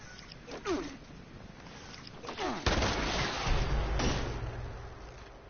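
Gunfire in the video game Fallout 76: a couple of sharp shots early, then a louder burst around the middle that rings out into a sustained rumble, heard over quiet game ambience.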